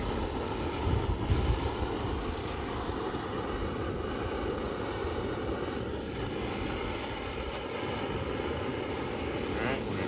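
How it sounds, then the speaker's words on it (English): An MSR Pocket Rocket camping stove burner roars with a steady, close gas rush that stays loud and unbroken throughout, with no talking over it. "Hear that pocket rocket roar."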